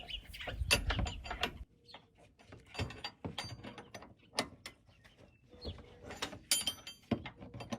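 Metallic clicks, ratcheting and clanks come from a tool turning a shock bolt on a Jeep Wrangler JK during a Rancho RS5000X front shock install. The bursts are close and irregular, separated by brief pauses.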